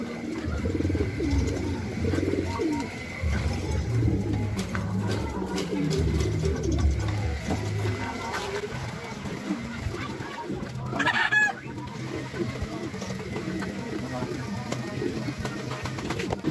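Racing pigeons at a derby race clocking point in Camarines Sur coo and flutter amid roosters crowing and clucking nearby, while people talk throughout and a sharp rustle cuts in midway.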